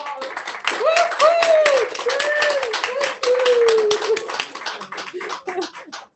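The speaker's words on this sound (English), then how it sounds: "Can we have more applause?" Audience applause and clapping, a dense run of hand claps from a small crowd with a cheer and voices mixed in, fading somewhat toward the end.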